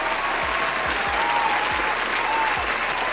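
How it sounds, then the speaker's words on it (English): Sustained applause sound effect, dense crowd clapping at an even, loud level throughout with no pauses, a few low thumps underneath and no voices. "Give him a round of applause."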